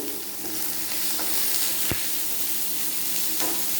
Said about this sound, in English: I'm going to fry the onions, the red chilli, the green chilli